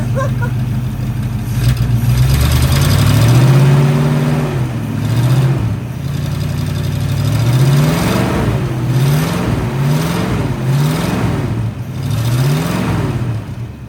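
An abandoned Ford F350 truck engine runs and revs loudly, with repeated rising throttle blips over a steady rumbling idle.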